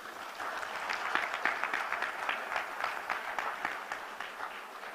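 Moderately distant audience applause for faculty at a university convocation, steady even clapping with a slight swell early on and no speech over it.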